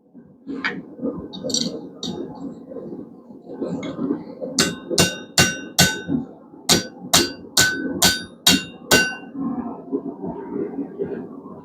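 Hammer driving a chisel to slit hot steel for a blacksmith-made bottle opener, a run of about a dozen loud ringing metallic strikes in steady rhythm over a background of roaring forge noise and softer knocks.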